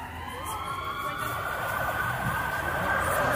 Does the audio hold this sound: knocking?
no